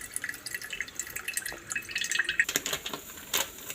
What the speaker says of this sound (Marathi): हे बघा, मी आता गाळून घेते पाणी